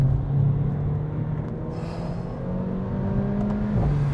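A Mercedes-Benz A45 AMG or BMW M135i hot hatch driven hard on a track, its engine droning steadily under load with a low hum and shifting pitch as it accelerates, heard from inside the car without talk.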